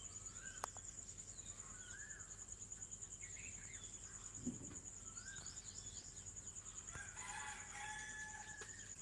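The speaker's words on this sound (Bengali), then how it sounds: "মোরগের ডাক পাখির ডাক" A rooster crows faintly in the distance at dawn after morning prayers, with other birds calling and a steady high insect drone underneath; the whole scene is quiet and remote.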